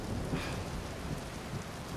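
Steady rain hiss with low rumbling thunder underneath in Uncharted 4: A Thief's End on PS5, continuous and fairly loud, with no voices.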